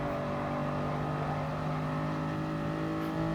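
Toyota GR Supra Gr.3 race car engine at Interlagos in the Gran Turismo racing game: a loud, steady, sustained drone with strong harmonic tones holding near constant revs throughout, no talking.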